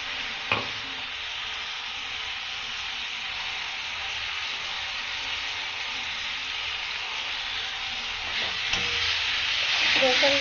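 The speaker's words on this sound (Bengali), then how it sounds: "পেঁয়াজটা হালকা ভাজা ভাজা হয়ে গেলে এবার দেওয়া হচ্ছে রসুন" Garlic frying with lightly browned onions in a pan sizzles in a steady, fairly quiet hiss, with occasional stirring clicks. It is part of cooking mutton kosa, and no one speaks.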